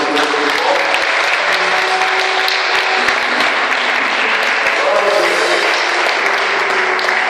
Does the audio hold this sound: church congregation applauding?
yes